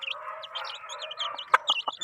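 Chickens kept on a rural farm cluck and chirp close by in a quick, overlapping series of short calls, with a sharper squawk near the end.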